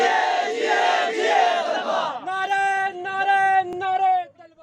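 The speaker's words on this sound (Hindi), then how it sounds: "तलबा ने इम्तिहानात की मनसूखी के लिए शदीद नारेबाजी की" Students protesting in Islamabad, near the press club and D Chowk, over exam cancellation shout slogans as a loud crowd. Rough massed shouting gives way to a sustained, tonal group chant.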